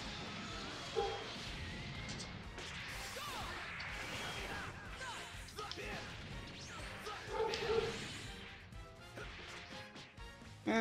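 Dogs bark repeatedly in a video game amid crashes, whooshes and thumping action sounds, the barks recurring at intervals over a busy, loud mix.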